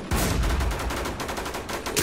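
Rapid gunfire rattles continuously in a zombie survival server video game, a loud dense stream of shots with no pauses.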